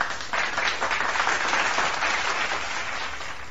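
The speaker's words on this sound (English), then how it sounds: "It also has an applause." A canned applause effect fires from a podcast soundboard, a burst of crowd clapping that starts abruptly after a brief pause and runs evenly to the end, loud and close.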